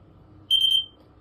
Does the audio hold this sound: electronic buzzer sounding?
yes